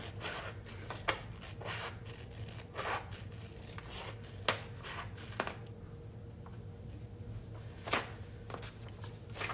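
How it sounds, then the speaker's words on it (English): A paper pattern is trimmed while being transferred onto fabric for a bookshelf stitchalong: soft, close rustling and rubbing of paper with a few sharp snips and clicks, quiet and unaccompanied by talk. "Let me just trim this a little bit"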